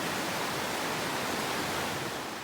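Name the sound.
Lightning Creek flowing water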